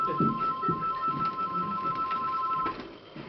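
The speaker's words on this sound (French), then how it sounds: "Téléphone. J'entends." A telephone ringing indoors, a steady electronic tone held for about two and a half seconds behind a voice talking, moderately loud.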